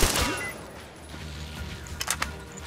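Gunfire in the Metro Exodus video game, with a loud burst of shots at the start, then several sharp cracks later on over a constant rumbling game background.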